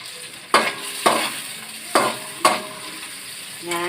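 Onions sautéing in a pan for tuna pasta give a soft sizzle, interrupted by several sharp scraping stirs of a utensil against the pan at irregular intervals, close and moderately loud.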